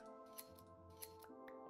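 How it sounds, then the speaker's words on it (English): Shears clipping wool from sheep in modded Minecraft, a quick run of sharp metallic snips in close succession over soft bleating and quiet background music. "Shear some of these sheep up."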